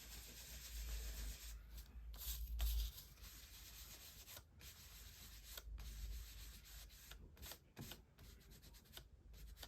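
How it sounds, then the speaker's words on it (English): Memento ink pad rubbed slowly over stamped paper, a steady close dry scuffing and rasping that continues with brief pauses between strokes. "I'm going to take my Memento and I'm just going to rub it over again"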